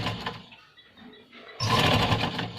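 A sewing machine stitches a wallet pocket onto a pair of pants, with a quieter stretch of rustling fabric handling before a loud, steady run of stitching starts close by.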